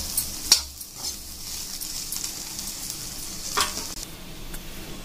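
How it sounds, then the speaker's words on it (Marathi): Okra (bhendi) frying in a pan, a steady bright sizzle throughout with a couple of sharp metallic clinks of a utensil against the pan, close and alone. "इथे छान प्रकारे फ्राय होती आहे भेंडी"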